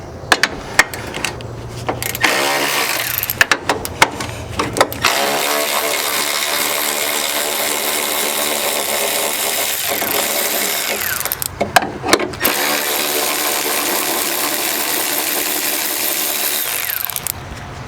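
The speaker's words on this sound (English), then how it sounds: "remove two 13mm bolts right here to get rid of this block." Two 13mm bolts being removed near the radiator of a 2005 Chevy Trailblazer with a power tool, heard as a loud, steady whirring run of an impact driver or drill with brief stops and clicks between, close and without talk.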